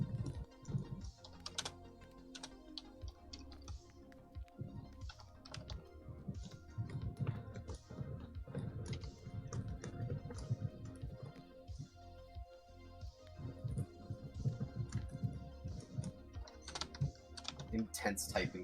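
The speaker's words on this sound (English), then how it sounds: "intense typing sound effects." Rapid, intense computer keyboard typing runs steadily throughout, dense clattering keystrokes layered over a busy orchestral rock music bed.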